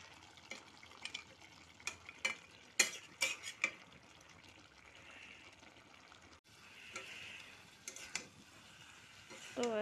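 Lentil dal with fried vadas stirred in a pot, giving intermittent scraping and clinking spoon strokes against the metal, with soft liquid movement between the louder hits.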